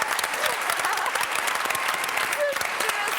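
Applause from a studio audience on a Quebec reality show, steady and dense with many hands clapping for a few seconds, close and fairly loud.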